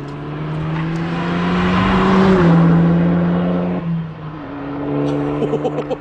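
A car passes by fast after hard braking, its engine swelling to a loud whooshing roar close by and then fading, with a few ticking sounds at the end.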